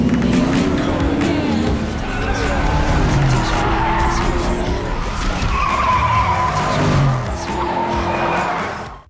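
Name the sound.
Ford GT car driven fast on NASCAR track, tires skidding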